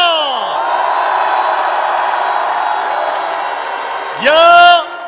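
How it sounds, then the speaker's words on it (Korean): Outdoor political rally of five opposition parties, a voice shouting over the crowd, then a short burst of loud whooping and cheering, with a few scattered claps. "헌재를 위해 뜨거운 응원의 박수를 보내줍시다"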